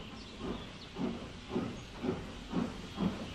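Richard, a steam locomotive, puffs away in a steady rhythm of soft chuffs, roughly two per second, each wrapped in a hiss of steam, moderately close and fairly quiet.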